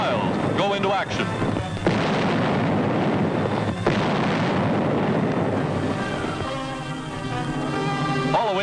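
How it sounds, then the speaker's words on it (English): 155mm Long Tom artillery guns fire in a wartime barrage, heavy booms landing over a rumbling din while a narrator talks over them. "Huge 155mm rifles, long toms capable of hurling a shell for more than 6 miles, go into action."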